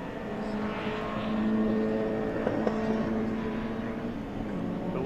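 Pre-83 touring cars race at Silverstone, engines droning from a distance with a rising and fading whine as cars pass, the steady roar carrying for several seconds.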